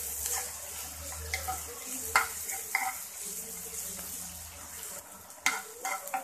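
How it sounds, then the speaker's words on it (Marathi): Onions sautéing in a pan for ragda pattice, a soft steady sizzle with scattered scraping stir strokes and a few sharper utensil knocks, close and moderately quiet throughout. "त्यानंतर मी टाकणार आहे कांदा। याला आपल्याला मस्त चांगल्यापैकी परतवून घ्यायचं आहे।"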